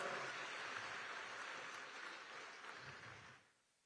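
An audience at a women's gathering in Raipur gives a short burst of applause to welcome the Chief Minister; the faint, even clapping fades out after a few seconds.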